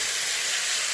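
Ginger garlic paste goes into hot oil with browned onion and sizzles as a dense, even hiss throughout the short moment, close and steady with no talk.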